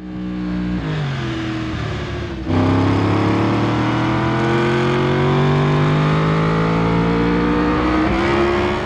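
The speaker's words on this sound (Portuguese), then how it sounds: "Perceba que o barulho do motor não fica alto." In the MotoGP 21 racing game, a motorcycle engine drones loudly at low revs in the wrong gear. Its pitch shifts a few times, then rises slowly over a long, sustained stretch.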